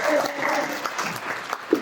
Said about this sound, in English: Big round of applause for Porrick.